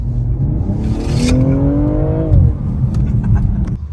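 A 2022 BMW M240i G42 in sport transmission mode accelerates, its engine note rising steadily in pitch with a loud, close, rumbling drone, then easing off as a gear change cuts in.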